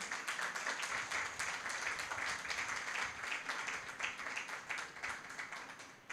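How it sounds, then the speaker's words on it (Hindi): Sustained applause from a church congregation clapping for Jesus, many hands beating in a loosely rhythmic, fast patter at a fairly even level, fading slightly toward the end. "आए यीशु के लिए पुरजोर तालियां बजाएं।"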